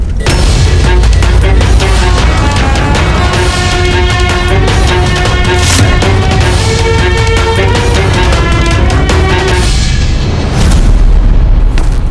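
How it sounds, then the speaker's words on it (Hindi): A huge explosion of a gunpowder-filled tent in a historical Rajput battle drama, rendered as a loud, sustained booming roar that rumbles continuously for over ten seconds, dense and close, with no speech. "एक बड़ा धमाका होगा, भयंकर अफरा तफरी मचेगी"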